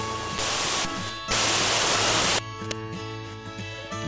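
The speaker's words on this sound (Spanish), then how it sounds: "como si estuviera sintonizando o desintonizando," Radio-tuning static opens a music track, with bursts of broadband hiss cutting in and out over the first seconds before tonal music takes over.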